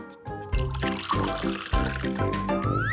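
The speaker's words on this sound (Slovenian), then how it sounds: "Najprej nalijemo nekaj vode v kozarec." Water pours into a glass under steady background music, with a splashing trickle whose pitch rises near the end as the glass fills.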